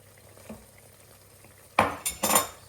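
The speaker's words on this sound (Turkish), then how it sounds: "Böyle yumurtamızı güzelce döküyoruz." Beaten eggs poured into a pan with vegetables, parsley and cheese, heard as a close, quiet clink followed by a few louder splashy, sizzling bursts near the end.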